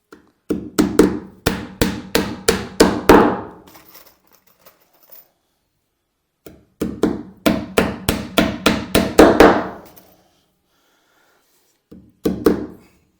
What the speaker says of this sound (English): So we nail it down